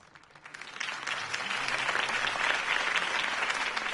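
Applause from a campaign rally crowd after a political speech in the Batman Telltale video game: clapping swells quickly from a quiet start and holds steady and dense, with no voices over it.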